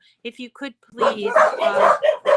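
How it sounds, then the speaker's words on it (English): A dog barks and yips a few times in short sharp bursts, close to the microphone, before a person's voice takes over and continues speaking. "Sorry about the dog."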